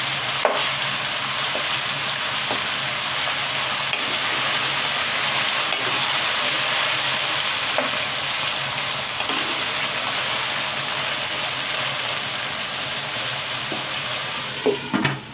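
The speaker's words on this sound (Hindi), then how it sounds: "ये देखिए प्याज और चिकन दोनों फ्राई हो रहे हैं।" Onions and chicken fry in a pan for a chicken and spinach dish, a steady close sizzle with occasional faint stirring clicks and scrapes.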